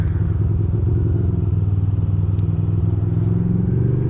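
A motorcycle rolls slowly through the city streets of Williamsburg, a steady close low engine rumble with a pulsing idle-like throb, no talk over it.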